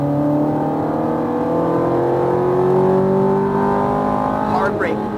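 A Ferrari F430 on a racetrack roars at full throttle, its engine pitch climbing steadily as it accelerates hard, loud and close, with a person talking over it.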